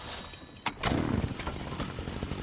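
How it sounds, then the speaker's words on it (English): A chainsaw in the Fortnite video game revs up abruptly after a short quiet lead-in, then keeps buzzing at moderate loudness with no talking. "Questionable choice to pick up the chainsaw."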